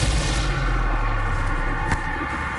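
A single booming Bombarda spell blast from Hogwarts Legacy, played on PS5, cracks once midway through a dense, steady game ambience that fills the whole stretch.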